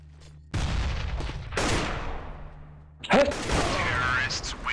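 A grenade goes off amid gunfire in the shooter game CS:GO. Loud bursts of rapid shots and explosive blasts come in two main waves, with a voice speaking over the action.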